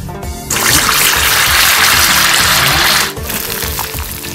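Marinated chicken pieces dropped into hot oil in a pan, a loud steady sizzle that starts abruptly and holds for a few seconds before easing back to a quieter crackle.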